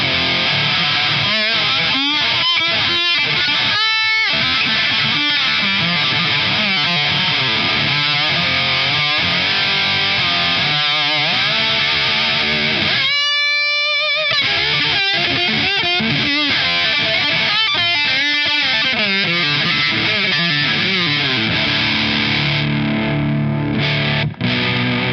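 Distorted, scooped lap steel guitar played through a Mesa Boogie amplifier, loud sustained chords and slides over about twenty-five seconds, with a short pause midway and no talking.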